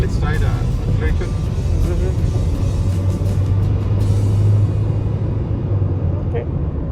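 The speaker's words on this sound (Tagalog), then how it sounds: "So let's try the acceleration." A Maxus D60 accelerating on a road in South Luzon, heard from inside the cabin as a steady, loud low engine and road rumble that swells in the middle with a droning tone.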